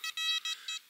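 A metal detector gives a series of four short, high electronic beeps in quick succession over buried metal, fairly faint and alone.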